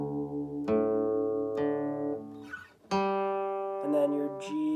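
Top three guitar strings in an alternate tuning for a song are plucked one after another, each note ringing clearly and close up with nothing else over them.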